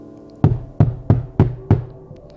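Five firm knocks on a bedroom door at night, evenly spaced about a third of a second apart, close and loud with a hollow thud in an otherwise quiet room.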